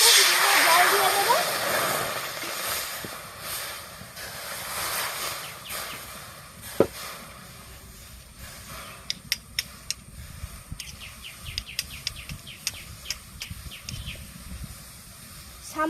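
Water with salt and turmeric heats in a wok on a wood-fired clay stove, a soft hiss that fades, then scattered sharp crackles and pops from the fire.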